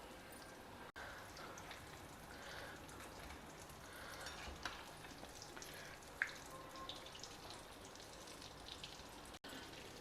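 Prasadam dumplings sizzling steadily in hot oil, a soft continuous crackle and hiss with faint pops throughout, no talking.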